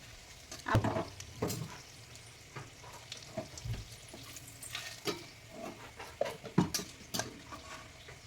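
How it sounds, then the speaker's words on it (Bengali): Black cumin and whole garam masala crackle in hot oil as a tempering, with a quiet sizzle and scattered sharper pops. Intermittent spoon stirring scrapes the pan, and no one speaks. "ফোড়নে দিয়ে দেবো কালো জিরা আর গোটা গরম মশলা, একটু নেড়ে ভেজে নেবো।"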